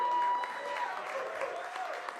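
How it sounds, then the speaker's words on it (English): An awards celebration audience gives a round of applause, a sustained wash of clapping throughout. "I'd like us all to give another round of applause to Mike Garner, please."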